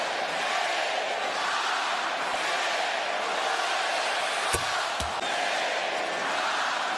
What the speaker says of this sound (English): Countdown continues from this crowd